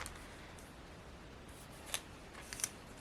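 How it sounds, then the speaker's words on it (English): Scissors trim a small paper piece in a glue book journal, giving a few faint, crisp snips close by against a quiet background. "And I can just trim that little piece off there."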